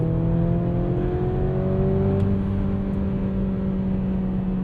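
A 2023 Mercedes-Benz GLC 300 in sport mode accelerating under load, a steady, droning engine note heard from inside the cabin with rising harmonic tones held throughout.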